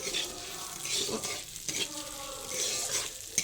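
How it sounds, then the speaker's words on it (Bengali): Mung dal is poured into hot ghee in a pan and stirred, giving a steady close sizzle with scraping stir strokes throughout and no talk. "এবার এইটা ঘি হয়ে গেছে, এবার ডালটা ঢেলে দিচ্ছি। এটা একটু নেড়ে নিলাম"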